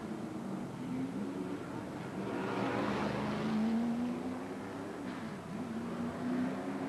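Race cars at the 1989 Nissan Mobil 500 drone past at a distance, their engine notes rising and falling in a steady, far-off roar, with a commentator talking over them.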